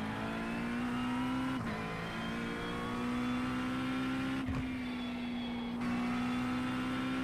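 A McLaren race car engine in the Assetto Corsa Competizione racing game drones loudly and steadily, its pitch climbing through each gear before brief dips at shifts, with no talk over it.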